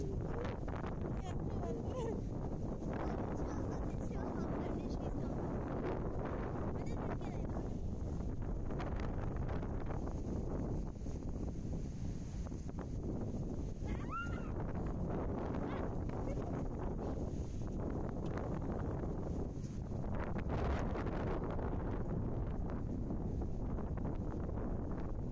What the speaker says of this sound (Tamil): ரெண்டு சைடும் பயங்கரமாக காற்று அடிக்குது